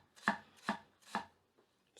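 A bunka kitchen knife chops through a carrot on a board in three crisp, evenly spaced cuts, each a sharp thud-and-snap, followed by a fainter fourth tap and the start of another cut.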